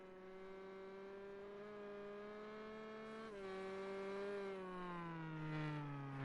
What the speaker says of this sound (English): just giving you a quick second there with just the audio of the car